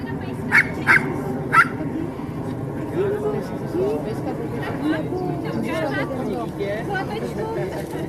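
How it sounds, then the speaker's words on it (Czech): Two dogs barking outdoors at a park cleanup event, a few sharp barks early on, then fainter yips under steady chatter and talking from people nearby. "Takže já tady mám dneska své 2 pejsky"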